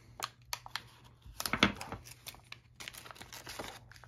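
Plastic packaging around an Ultragauge MX engine monitor crinkles and tears in a series of short, close rustling bursts, with one louder rip midway and quieter handling noises after.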